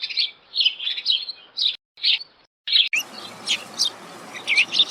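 A flock of sparrows in winter chirps in quick, bright bursts, several birds calling close by and overlapping. Brief pauses break the calls before a busier, noisier stretch of chatter continues.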